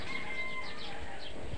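Chickens raised on a small backyard farm cluck and chirp softly in short, scattered calls over a steady low rustle of the surroundings.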